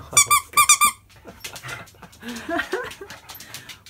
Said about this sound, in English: This little squeaky lamb.